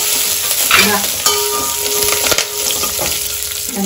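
Curry leaves, garlic and dried chillies frying in a hot pan give a loud, continuous sizzle and crackle, with occasional stirring scrapes and no talk.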